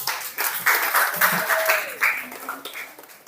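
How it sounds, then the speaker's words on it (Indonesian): A secondary-school biology class gives a short round of applause for students who presented, a fairly loud, dense patter of many hands clapping at once, with some voices mixed in. "Kita beri tepuk tangan dulu."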